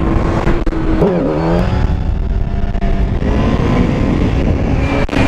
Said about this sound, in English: I'm doing a wheelie